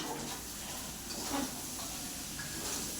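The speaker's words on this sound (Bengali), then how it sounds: "আর ভাত ভাজা হচ্ছে।" Rice frying in a pan, with a steady soft hiss and sizzle running throughout at moderate level and a few faint clinks, no talking.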